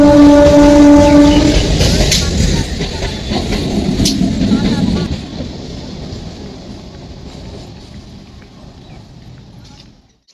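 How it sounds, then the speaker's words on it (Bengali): A train rolls past a railway platform with a loud horn blast at the start, then rhythmic clattering of wagons over the rails that gradually fades as it moves away, with a voice speaking over it. "আর দেখো ট্রেনও চলে যাচ্ছে"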